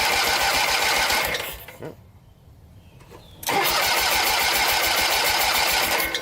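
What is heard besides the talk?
8hp Briggs engine on Jacobsen-HomeLite rear engine rider starting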